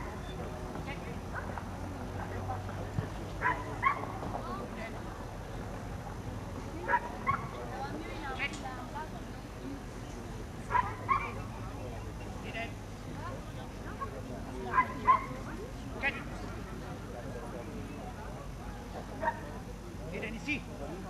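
A dog at a club fête demonstration sits in front of its find and barks repeatedly to alert its handler, sharp yips spaced out over an outdoor crowd murmur and low background noise.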